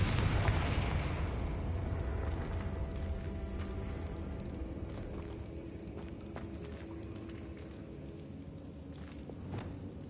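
A Confringo fire spell blast from the video game Hogwarts Legacy bursts loudly at the start, then a rumbling, crackling decay with scattered pops lingers for several seconds without speech.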